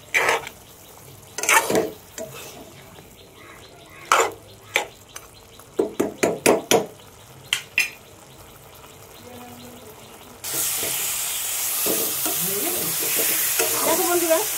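Fish sautés in a pan with yogurt, and a spatula knocks and scrapes against the pan in a series of sharp strikes. Partway through, a loud, steady frying hiss takes over.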